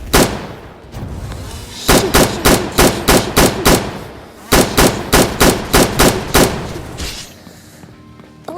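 Rapid bursts of Blitz Shot gunfire in a Chainsaw Man video game ring out in two loud, evenly spaced volleys of about six sharp shots each, separated by a short pause, with no talk.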